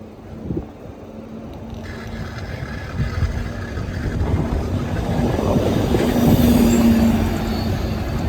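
A train rumbles past, its low roar building steadily, with a thin metallic wheel squeal rising toward the end.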